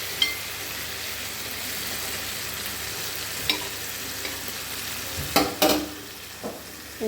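Spice powders sizzling in a pan of frying tomato and dry fish for a Kerala-style curry, a steady broadband crackle with a few sharper stirring scrapes near the end, no talking.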